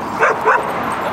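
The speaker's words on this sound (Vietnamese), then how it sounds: "Chỗ nào sủa?" A boxer dog gives two quick soft barks or yips in a row, close by, over a steady background hum indoors.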